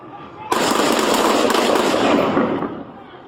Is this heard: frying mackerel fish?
no